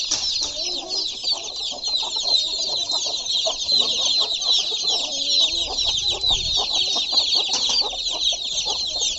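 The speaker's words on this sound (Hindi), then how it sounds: "बच्चे भी हैं, मुर्गा भी देखिए, मुर्गा।" Desi hens and a rooster cluck and chatter continuously up close, with dense high-pitched bird calls throughout and faint low background noise.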